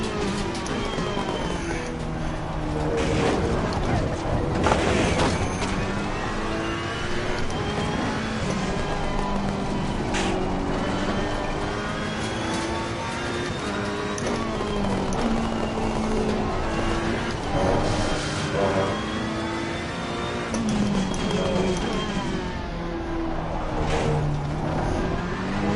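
A Ferrari race car in Assetto Corsa Competizione at Laguna Seca at night, its engine roaring loud and continuous with rising and falling revs through gear changes and corners, alone without talk.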